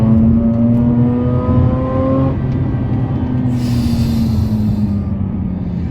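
A Mazda RX-8 engine roars loudly and steadily, its pitch sliding down as the revs shift, close and continuous throughout.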